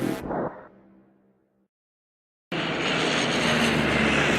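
Airplane engine from the adventure game Secret Files: Tunguska: a short sound fades into near silence, then a loud, steady, broadband engine drone cuts in abruptly and holds close and constant to the end.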